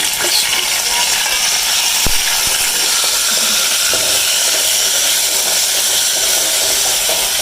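Onions sizzling in hot oil for aloo methi, a loud, steady hiss running the whole time with a few faint clinks.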